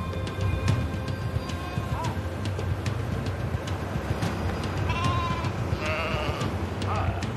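Several sheep bleat at different distances over a steady rumbling background, with calls scattered irregularly throughout.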